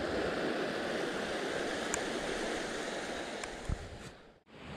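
A small river flowing beneath the Cibitung bridge on a mountain cycling route in West Bandung, its steady broadband rush of water continuous and fairly close, with a brief dip near the end and no talk.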